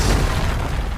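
A Confringo blasting spell detonates in the video game Hogwarts Legacy, a loud booming explosion that rolls on as a thick low rumble across the short moment, with no talk.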